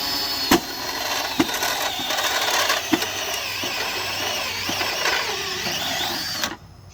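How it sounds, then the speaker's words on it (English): A power drill bores a hole through a metal three-phase disconnect box set upside down, giving a steady high whine with a few sharp ticks along the way before it cuts off abruptly at the end. "I'm just going to drill my hole right here."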